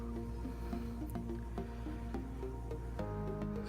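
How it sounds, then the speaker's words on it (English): Diesel fuel gurgling and bubbling from the suction control valve on a 2007 Mazda 3 MZR-CD fuel pump, a faint, close series of wet squishy glugs in an uneven rhythm with no talk. "So it'll leak some fuel, and you'll hear it gurgle and complain"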